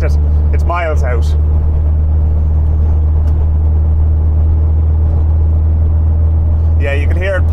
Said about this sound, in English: you can hear it popping on the carbs on idle